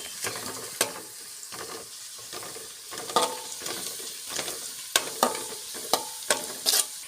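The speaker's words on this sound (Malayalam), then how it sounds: "അപ്പോൾ അതിലേക്ക് നമ്മൾ ചോപ്പ് ചെയ്ത് വെച്ച ഇഞ്ചി അതിട്ട് കൊടുക്കാം" Chopped ginger frying with onions in hot oil, sizzling steadily up close with sharp clacks and scrapes of a stirring spoon against the pan, no voices.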